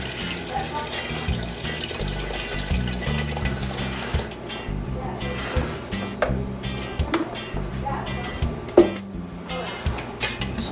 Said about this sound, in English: I have some water here from the kettle. Then I'm gonna slowly just keep adding water.